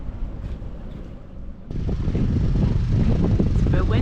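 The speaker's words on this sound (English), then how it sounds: "It's a bit windy out here." Wind buffets a microphone outdoors by the water at a sailing event, rushing and roaring louder after a sudden gust partway through, with faint voices underneath.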